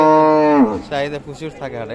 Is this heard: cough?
no